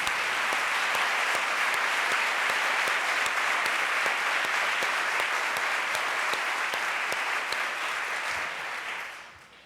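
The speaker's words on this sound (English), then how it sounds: "can we ask the team from San Diego to please stand and give them a round of applause?" A seated audience at the 2013 Broad Prize announcement gives steady, dense applause for the San Diego team, holding even for about nine seconds before tapering off at the end.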